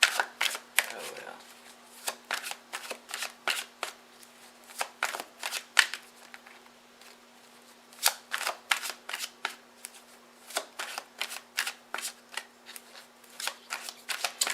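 Tarot cards are shuffled over and over close to the mic, a steady run of crisp riffling flicks with brief pauses between bursts, and no one speaking.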